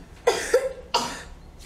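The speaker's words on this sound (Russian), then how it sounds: "Я не могу читать, когда кашляю." A child coughs three times up close, two quick harsh coughs followed by a third after a short pause, with no talking in between.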